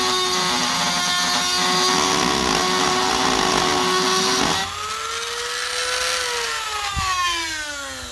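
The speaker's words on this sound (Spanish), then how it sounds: "Observen, pongo en marcha el taladro," A homemade lathe built from an electric drill whines steadily at full speed, then the pitch drops and wavers as it bites into and carves the material; loud and close, with no talking.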